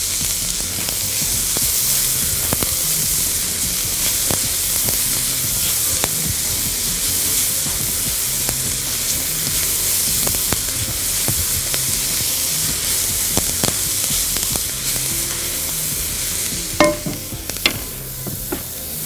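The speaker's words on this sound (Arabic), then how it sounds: "ستير فراي، يعني بنقلب طول الوقت" Peppers and green onion stir-fried in a little oil, sizzling steadily under constant stirring, with the frequent scrape and clack of a utensil against the pan and no talk.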